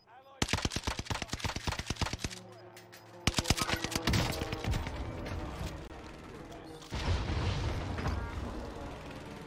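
Armaguerra 43 submachine gun fire in a video game: rapid automatic bursts in several loud runs with brief pauses, plus a later sustained burst and mechanical clatter, without speech.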